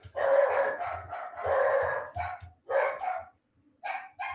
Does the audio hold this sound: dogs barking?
yes